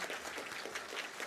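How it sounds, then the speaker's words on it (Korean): Congregation applause at a church service for three people receiving plaques of appreciation, a brief, even patter of many hands clapping, fairly faint and somewhat distant. "우리 감사패를 받으신 이 세 분 위해서 다시 한번 뜨거운 박수 부탁드리겠습니다."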